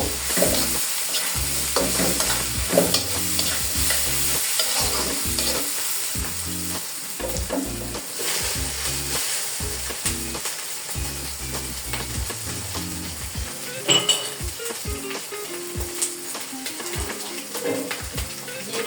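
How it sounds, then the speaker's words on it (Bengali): Chicken fries in a pan while a spoon stirs it repeatedly, giving rhythmic scraping and clattering strokes over a constant oily sizzle. The sound is close and continuous with no talking, lasting nearly twenty seconds. "আর এদিকে মুরগির টাইপটা আমি ভেজে নিব।"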